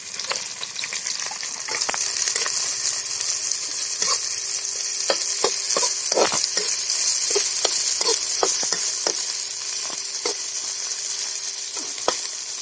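Chopped onion, garlic and ginger fry in hot oil for fenugreek bhurji in a village kitchen, a steady close sizzle broken by scattered pops and stirring scrapes throughout.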